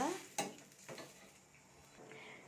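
A pan of moong dal kurma with tomato and onion is stirred, giving a brief clatter and faint scraping over a quiet sizzle.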